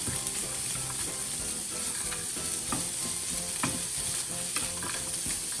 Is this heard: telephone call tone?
no